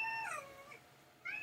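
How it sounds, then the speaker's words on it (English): A house cat meows for attention, a close, drawn-out cry that bends downward, then a second shorter meow starts right after a brief pause. "Cat wants my attention now."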